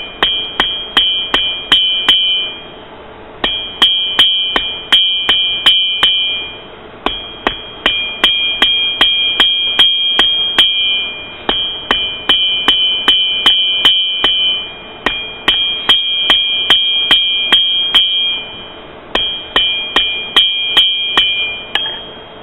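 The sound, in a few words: hammering a metal socket flat on an anvil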